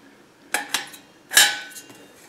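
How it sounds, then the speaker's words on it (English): Metal parts of a SilverFire Scout biomass backpacking stove clink together as it is assembled, with two quick sharp taps followed by a louder ringing clank and a softer knock, close up. "here's how you put it together. There's your combustion chamber."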